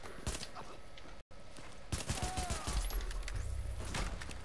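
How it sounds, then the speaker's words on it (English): Rapid gunfire bursts in The Division's Dark Zone, sharp repeated pistol cracks in quick succession, loud and close, with a brief drop-out early on. "No, I want to use my pistol."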